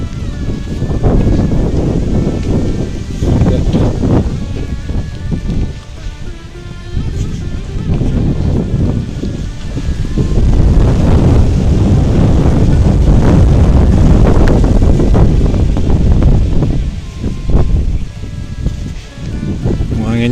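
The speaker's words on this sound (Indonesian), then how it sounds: "Anginnya kenceng ya." Strong wind gusting outdoors, a loud steady rush that swells and buffets continuously throughout, with a heavier surge in the middle.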